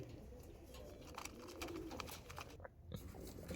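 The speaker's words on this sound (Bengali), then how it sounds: "অরিজিনাল মঙ্গলাগিরি লাইনের পায়রা" Mangalagiri line breeding pigeons coo in low, rolling murmurs at close range, with scattered pecking and shuffling noises around them and no talk.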